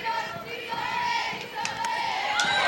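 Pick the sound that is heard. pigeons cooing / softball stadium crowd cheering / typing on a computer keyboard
softball stadium crowd cheering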